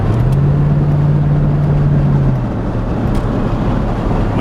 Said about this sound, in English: That, my friends, is David's new Honda Accord station wagon.